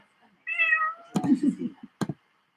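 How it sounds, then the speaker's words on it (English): A cat gives one clear, drawn-out meow close by, followed by a few soft knocks and short rustling sounds. "And I see a cat coming."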